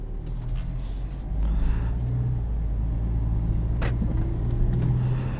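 A 2017 Mazda CX-3 Touring compact crossover on the move, with steady low engine drone and road rumble throughout, a slight swell as it gathers speed, and no talking.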